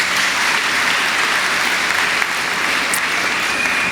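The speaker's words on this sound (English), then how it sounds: "let's get a round of applause for them" Sustained, loud applause from a commencement audience at a university graduation ceremony honoring staff and faculty, dense and even throughout with no voices standing out.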